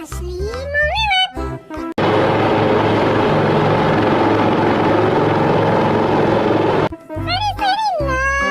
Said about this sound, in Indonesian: yang satu ini helikopter Apache yang asli mau lewat